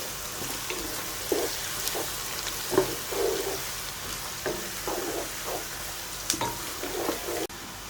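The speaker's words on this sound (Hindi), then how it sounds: "प्याज ऐड करके हमें तब तक प्याज को फ्राई करना है जब तक इनका कलर गोल्डन सा नहीं हो जाता।" Thinly sliced onions frying in a pan over a medium-low flame for Sindhi biryani: a soft, steady sizzle broken by gentle bursts of stirring, close and fairly quiet, with no talking.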